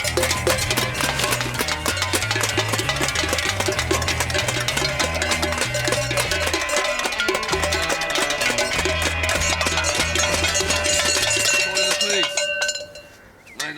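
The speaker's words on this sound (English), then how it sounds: "their kitchen utensil band woke me up with a budget version of the musical Stomp" Kitchen utensils banged like drums, rhythmic metallic banging and clanging over a steady pulsing beat, loud and continuous, then stopping abruptly near the end.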